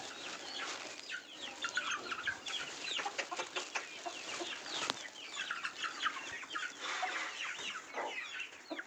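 Satpuda Gavran chicks, a flock of about fifty desi chicks, cluck and peep steadily while pecking at cut spinach and fenugreek stalks, a dense chorus of small calls close by with no talk.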